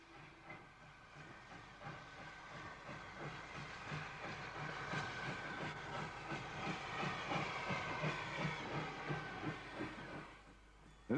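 LMS steam tank engine pulling into a station on a heritage line serving a mining museum at Birkhill, with steady steam hiss and rhythmic wheel clatter building over several seconds, then easing at the end.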